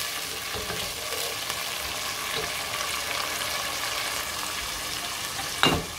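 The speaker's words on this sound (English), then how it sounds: "I will allow it to fry for 1 minute." Gizdodo ingredients fry in a pan with a steady close sizzle and occasional stirring scrapes, ending in one sharper clatter.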